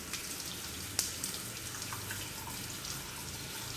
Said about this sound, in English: So wash this with the water.